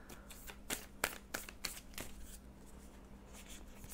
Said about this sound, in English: Please just be patient a moment as I draw the cards for you.